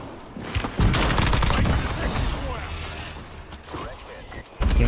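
Gunfire crackles in the battle royale game Call of Duty Warzone on Verdansk, with a sharp shot followed by scattered distant reports and rumbling battlefield noise. A voice speaks briefly over it.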